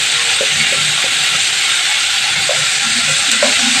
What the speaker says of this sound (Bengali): এবার আমি একটু ভালো করে ভেজে নেব এই মশলাটাকে।